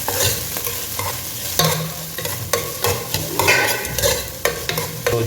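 Onion fries in a hot oiled pan, a dense close crackling sizzle broken by repeated scraping stirs and spatula strokes in an uneven rhythm.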